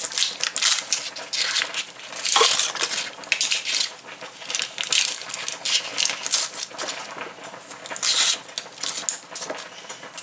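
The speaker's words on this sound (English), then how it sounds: "I'm also going to cut up my" Onion being cut up for Jamaican callaloo, a busy run of close knife chops and crisp slicing crackles on a board, uneven in rhythm and continuous, with no voices.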